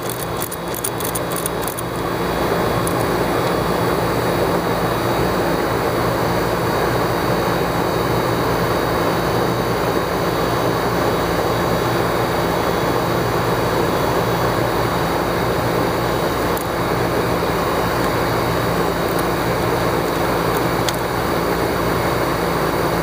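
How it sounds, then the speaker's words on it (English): A weak compressor in a Trane XB13 HVAC system runs with a steady, loud mechanical drone that holds unbroken from start to finish, with no voices. "We got ourselves a little weak compressor here."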